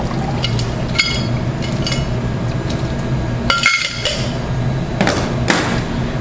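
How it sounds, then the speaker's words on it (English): Ice cubes being lifted out of a bowl of ice water, with sharp clinks and knocks of ice against the container in scattered bursts and light sloshing in between, close and fairly loud. "So we remove the ice cubes quickly."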